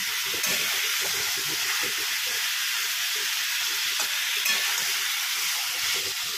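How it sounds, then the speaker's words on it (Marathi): Brinjal pieces sauté in oil in a pan, giving a soft, steady sizzle with intermittent stirring scrapes, fairly quiet and with no voices. "तर त्याला थोडंसं आपण तेलावरती परतून घेऊया."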